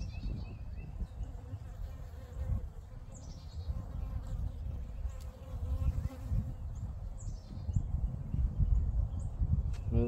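A dense, steady drone of many honey bees buzzing close by in a Layens hive, continuous throughout with faint bird chirps in the background.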